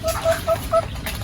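Free-range village chickens foraging for worms behind a farm coop give several short, evenly spaced clucks, close and clear over a soft background hum.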